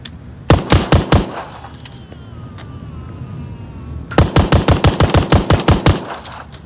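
Rapid automatic gunfire in the VR shooter Onward empties a magazine in two loud bursts of sharp evenly spaced shots, separated by a quieter pause with faint clicks and mechanical handling.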